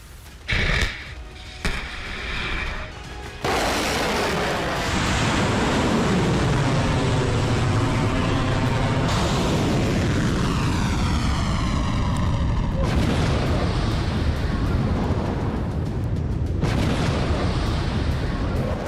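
A Russian fighter jet bombing targets in Ukraine during the war: loud, continuous roaring engine noise with a sweeping pass overhead, broken by heavy booms and blasts, dense and close throughout.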